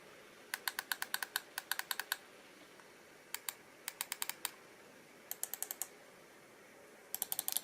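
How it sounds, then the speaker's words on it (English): Clicks from a BenQ Zowie EC2-A gaming mouse, sharp and close, come in quick bursts of several rapid presses separated by short pauses. "let's have a bit of a listen here of the mouse clicks"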